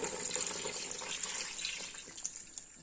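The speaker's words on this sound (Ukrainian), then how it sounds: "І зараз я сюди виливаю півтори літри томатного соку." Tomato juice pours from a container into a pot of simmering peppers, a steady, soft liquid rush and splash close by that thins out near the end, with no voices.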